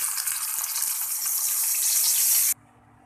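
Eggplant frying in a pan, a loud continuous hissing sizzle that cuts off abruptly near the end, leaving quiet background.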